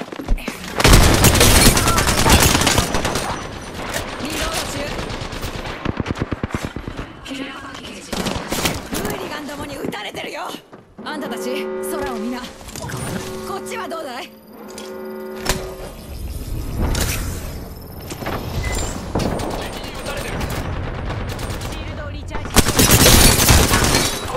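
Gunfire in the video game Apex Legends, with dense bursts of automatic weapon fire and booms filling most of the stretch, loud and close, with a brief lull of tonal game sounds in the middle.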